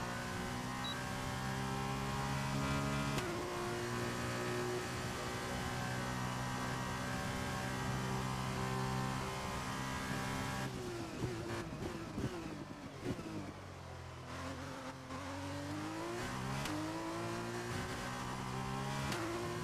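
An F1 race car engine from the game F1 2021 holds a steady high-pitched whine on track, then its tone drops and climbs again through gear changes and throttle shifts.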